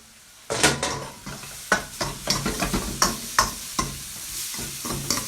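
A spoon works through pasta sauce with sweet corn in a pan, a potato and cream sauce for pizzoccheri, making a rhythmic series of scraping strokes over a steady sizzle, close and fairly loud.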